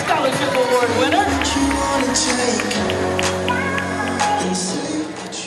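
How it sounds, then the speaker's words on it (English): Applause and crowd cheering for a senior scholarship award winner at an award ceremony, dense and sustained, with a voice and music-like tones running underneath. "One more big round of applause for Miss Sophia, our Senior Scholarship Award winner."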